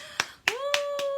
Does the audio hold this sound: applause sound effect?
yes